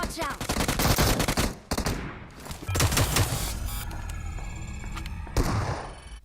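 Automatic UMP submachine gun fire in the mobile battle-royale game PUBG Mobile, loud dense bursts of rapid shots with a short pause, then continued firing, with faint voices under it.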